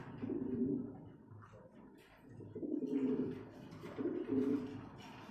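Pigeons coo close by in low, throaty bursts, three rounds of repeated coos with short pauses between them.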